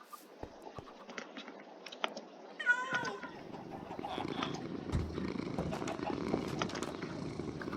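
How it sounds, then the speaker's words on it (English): Cats in a video game meow in short, warbling calls, with a soft purr-like rumble filling the background after the first few seconds. "Why do those cats make weird noises like that?"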